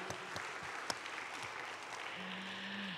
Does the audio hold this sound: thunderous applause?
yes